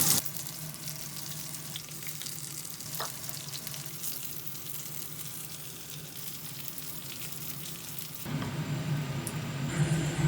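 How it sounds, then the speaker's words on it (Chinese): Small seafood pancakes pan-fry in oil with a steady, dense sizzle that runs continuously and grows louder and fuller near the end, with no voices. "我们现在先煎一锅小饼"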